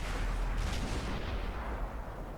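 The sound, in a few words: E-100 tank cannon firing in the video game World of Tanks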